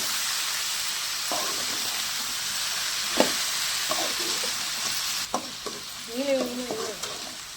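Chopped tomatoes go into a sizzling fish curry base in a pan: a continuous close frying hiss with scattered stirring knocks and scrapes, and a brief faint voice near the end.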